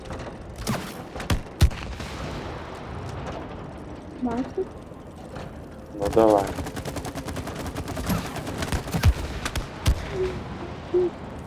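Rapid bursts of cartoonish gunfire and mechanical clatter from shooting in the co-op video game It Takes Two, with bursts scattered among clicks and creaks while players chat throughout.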